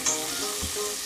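Potatoes frying in oil in a wok for Indonesian kentang balado, a steady close sizzle with a soft scrape of a spatula stirring partway through.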